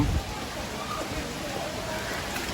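Steady rain falls at Sdok Kok Thom temple, a continuous broadband hiss of drops that holds evenly for the whole stretch, with a brief low thump at the start.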